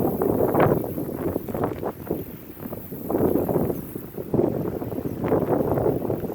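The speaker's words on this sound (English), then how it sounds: "Way too windy today." Gusty wind buffets the microphone outdoors in a vegetable garden, a steady low rumble that swells and eases in irregular waves for several seconds with no talking.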